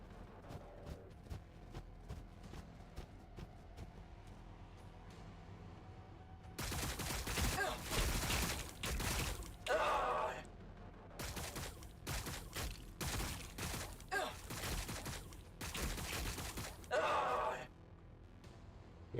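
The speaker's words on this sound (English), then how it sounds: "We're taking fire." Bursts of heavy gunfire in the Warhammer 40k: Battlesector battle, dense loud volleys arriving in long broadband stretches separated by quieter gaps of low ambient rumble.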